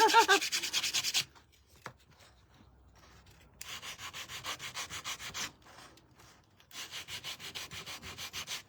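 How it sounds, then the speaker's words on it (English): Sanding strokes rub across a wooden hat brim to distress it for a pilgrim shelf-sitter craft, arriving in three bursts of close, steady back-and-forth scraping separated by quieter pauses. "I'm just kind of distressing up the hat brim a little bit so you can kind of see what that looks like"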